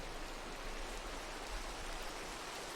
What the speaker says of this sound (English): I can't seem to get it to stop raining in Minecraft today